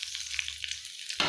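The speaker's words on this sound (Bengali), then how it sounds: "তো এবার আমি পেঁয়াজ দিয়ে দিচ্ছি।" Onion dropped into hot oil in a home kitchen pan sizzles with a steady crackling hiss, swelling into a louder burst at the end of the brief moment.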